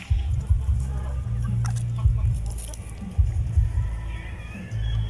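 Chickens and a five-month-old native rooster clucking close by in a steady, overlapping chatter of low calls with occasional sharper squawks, a person talking faintly in the background.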